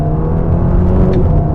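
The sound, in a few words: Ferrari Roma engine accelerating in sport mode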